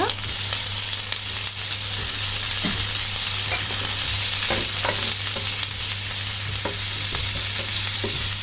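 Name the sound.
frying green chilies and onion in oil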